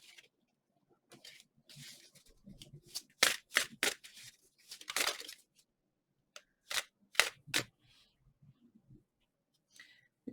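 Tarot cards being shuffled at close range, with quiet, irregular bursts of riffling and slapping separated by brief pauses.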